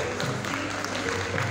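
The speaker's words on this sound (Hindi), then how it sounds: "सारे सर हाथ उठा के तालियां बजाएंगे सारे" Faint crowd applause at a corporate lucky draw event, a steady patter of clapping hands under a low hum of the hall, no voices standing out.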